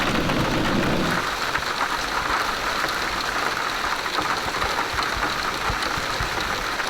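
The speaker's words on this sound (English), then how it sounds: "and yet we have almost torrential rain" Heavy, torrential rain pours during a thunderstorm in northwest England, a dense steady roar of drops with a low rumble fading out in the first second, loud and continuous with no talk.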